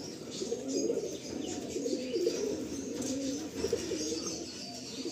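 Pigeons coo in a loft in Garia, Kolkata, their soft rolling calls overlapping continuously at close range over a low background hum.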